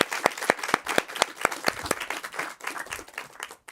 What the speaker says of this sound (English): Another round of applause for the man.